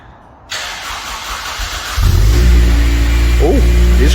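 Honda Civic Type R track car with a new exhaust system starting up: a quiet hum, then a burst of cranking, then the engine catching at about two seconds into a loud, close idle with a brief rev.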